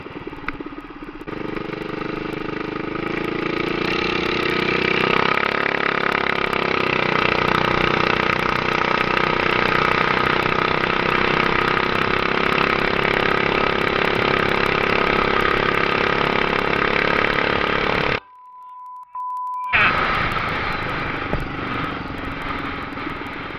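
Mini-bike engine running steadily during a ride, loud and continuous with a droning mid-pitched tone that shifts slightly, cutting out briefly near the end before resuming.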